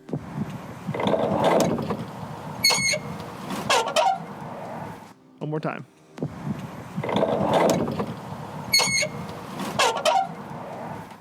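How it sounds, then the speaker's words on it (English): A heavy wooden barn door at Brecknock Park creaking and clattering as it slides open and shut, with squeaky rattling mechanism, heard twice with a short voice between. "It was the barn door at Brecknock."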